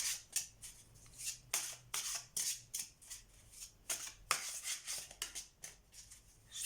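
Tarot cards are laid out and turned over in a quick series of soft papery swishes, slaps and sliding rustles. The sounds are close and irregular, with short pauses between them and no talking.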